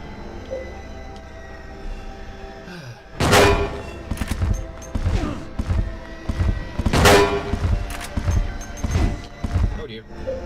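Gun firing in the Silent Hill 2 video game, a run of loud sharp shots at irregular intervals, some close together, over low rumbling game ambience.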